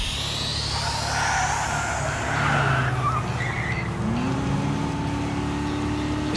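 Race car engine revving in the game Trails through Daybreak, a steady loud mechanical roar with rising whine and tire-skid texture throughout, alone without talk.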